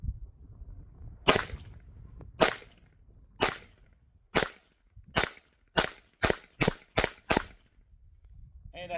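A Glock 44 pistol loaded from a Pro Mag 18-round magazine fires ten sharp, separate shots, spaced slowly at first and then quicker, with quiet pauses between them.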